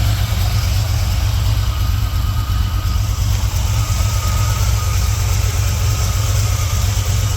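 A 1965 Chevy C10 shop truck with shorty headers idles steadily, its deep, even exhaust rumble close and loud throughout with no revving.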